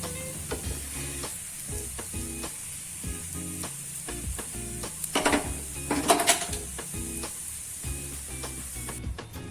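A Gujarati pudla, a gram flour pancake, fries crisp on a pan with a steady, close sizzle. Light clinks and scrapes of a utensil against the pan sound over it, and no one talks.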